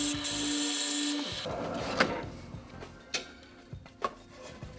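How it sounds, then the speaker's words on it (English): A power drill whirs steadily into wood for about a second, then stops, followed by scattered knocks and taps of tools being handled. "Next stage will really be just drill a hole in here"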